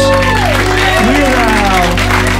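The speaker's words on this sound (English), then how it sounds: "Now give yourselves a round of applause." Crowd applause and cheering at a live comedy show, loud and continuous, with sung or shouted voices sliding in pitch over the clapping throughout.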